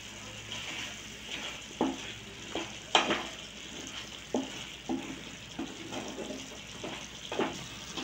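Bengali prawn malai curry with coconut and a drizzle of ghee, stirred in a pan: soft bubbling sizzle under a series of spatula scrapes and sharp clinks against the pan, close and moderately quiet.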